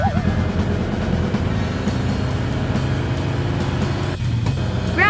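Racing video game car engine with a steady droning hum and shifting tonal whine, loud and continuous, joined near the end by a rising electronic sweep.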